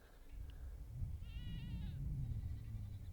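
A newborn goat kid bleats once in a short, thin wavering cry at moderate distance, set against steady low outdoor rumble on a farm where goats are kidding.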